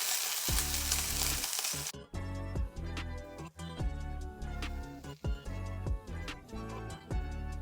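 Pork belly browning in a hot pan for chashu, a loud steady sizzle and crackle that runs all the way through, with rhythmic clicks and taps laid over the frying.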